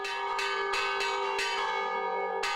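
Church bells in Minas Gerais, Brazil, ring out loud and close, several resonant strikes in an uneven rhythm, each tone sustaining and overlapping the next.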